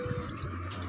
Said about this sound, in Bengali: চিড়েটা মা ধুয়ে দিচ্ছে